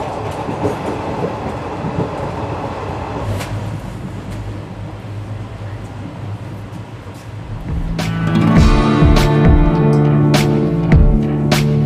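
Onboard the Jodhpur-Jammu Tawi Express 19225 as it runs through Kanasar station without stopping: a loud, steady rumble of wheels on rails that grows heavier and clatters with added metallic tones partway through.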